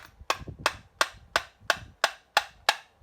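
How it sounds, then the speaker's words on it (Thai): Sharp metallic hammer strikes knocking a bearing out of a McCulloch-style 5200 chainsaw, using the hammer handle as a drift; about nine evenly spaced, loud taps in a steady rhythm with no talk. "ตอกไปเรื่อยๆครับเพราะว่าเราใช้เป็นค้อนอย่างนี้มันไม่เสียครับ"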